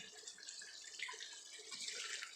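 Stewed pork bone broth pours steadily from a pot, giving a continuous, close liquid splash and trickle that runs for a couple of seconds without talk.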